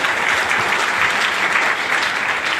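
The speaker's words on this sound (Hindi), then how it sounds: "तो सिल्वर स्टार के लिए एक जोरदार ताली।" A dense, steady round of audience applause fills a business-plan meeting hall in Samastipur, loud and continuous for a few seconds with no speech over it.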